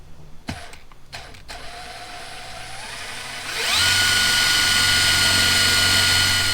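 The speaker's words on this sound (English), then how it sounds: "We're just going to drill a small hole." A power drill bores a small pilot hole in a vehicle during a twin compressor install. A few short clicks come first, then the motor spins up into a loud, steady high whine that runs to the end.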